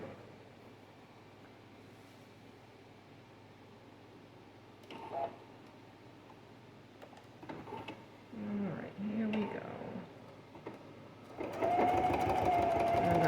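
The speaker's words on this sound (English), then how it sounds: "Just using a simple straight stitch to stitch it on." A sewing machine runs a simple straight stitch while binding a handmade journal, quiet handling and shuffling first, then short bursts of stitching and a louder steady run of the needle at the end.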